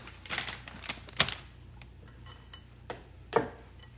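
Spoon clacking against a bowl while mixing peanut butter chocolate chip cookie dough, irregular sharp taps and scrapes, close and fairly quiet, with no talking.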